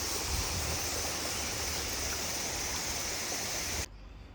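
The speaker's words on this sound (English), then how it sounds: "So today I'm going to the Mae Sai Waterfall." Mae Sa Waterfall in Chiang Mai's national park, a multi-tiered cascade, gives a steady, dense rush of falling water heard close and continuously for about four seconds before the roar abruptly drops lower.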